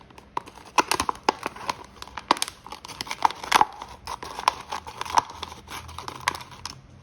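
Material is cut while air layering a Monstera Aurea with sphagnum moss: a series of crisp, close snips and crinkly rustles come in an irregular rhythm over about seven seconds, with no talking.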